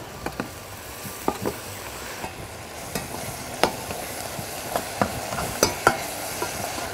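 Beef curry stirred through oil in a pan, a steady sizzle running under irregular scraping clicks of the utensil against the pan, close and moderately loud, no talking.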